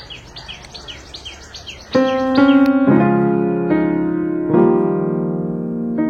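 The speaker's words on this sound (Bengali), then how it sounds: "তোমরা একটু শোনো পাখির আওয়াজগুলো।" Birds calling in a palash garden near Kolkata, with small chirps at first and then loud, sustained, tonal notes ringing out close by, no voices.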